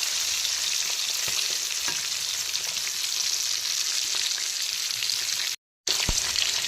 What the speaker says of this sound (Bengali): চিকেনগুলোকে উল্টো করে দিলাম, আর চিকেনের উল্টো দিকটাকেও একইভাবে ভেজে নেব